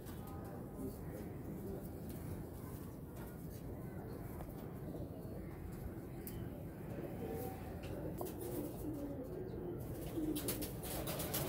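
Golden pigeons from Karachi coo softly and continuously in the background, low and faint, with occasional chirps as a voice talks nearby.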